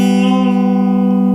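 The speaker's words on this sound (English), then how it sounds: "I'm just bending the string by pressing down there." A sustained electric guitar note rings steadily with a slight pitch bend, clear and upfront, holding evenly before cutting off abruptly.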